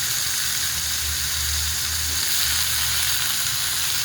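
Chopped bottle gourd frying in hot oil, a loud, dense sizzle that stays constant for a few seconds, close up, with no talking.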